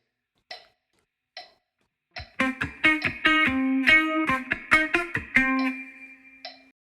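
A guitar plays one bar of a song as a run of crisp, rhythmic plucked notes, preceded by two soft isolated taps, with the last note ringing out.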